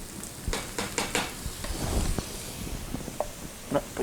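Big spoonful of garlic hitting a pan of sausage in red gravy, with a steady close sizzle broken by spoon-stirring scrapes and a few clinks of metal on the pan.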